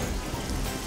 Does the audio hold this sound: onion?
no